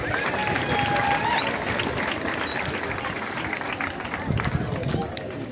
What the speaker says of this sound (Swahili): Tuwapigeni makofi.